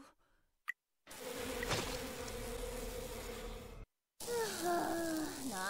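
Mosquitoes buzzing in the One Punch Man video game, a loud, steady insect drone holding for about three seconds between brief silences, followed by game music.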